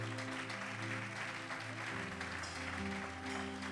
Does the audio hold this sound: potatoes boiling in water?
no